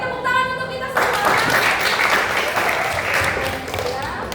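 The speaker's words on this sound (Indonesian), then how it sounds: "Oke, tepuk tangan untuk kita semua." A class of students applauds together in a classroom at the close of a lesson, with a steady burst of clapping starting about a second in and continuing loudly throughout.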